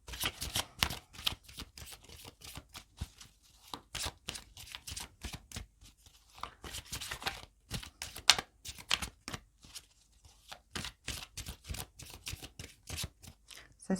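Tarot cards shuffled and drawn, a rapid run of crisp riffling flicks and snaps repeating for several seconds, close and fairly quiet.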